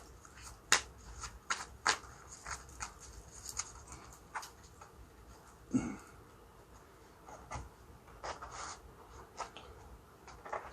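Stiff tarot cards being shuffled by hand, soft riffling and tapping in scattered bursts, quiet and close with no talk.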